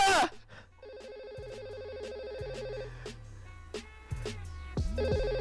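A phone ringtone plays in repeated melodic bursts under background music and sound effects, fairly faint and mixed among other electronic tones.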